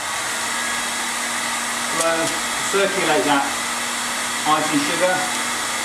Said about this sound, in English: So I just insert the hairdryer in the surface, give it a good blow, circulate that